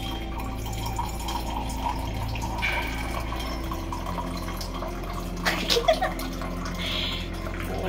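Water spills and splashes as someone drinks using only one hand, heard as soft trickling and a short burst of splashing drips near the end over a low indoor hum.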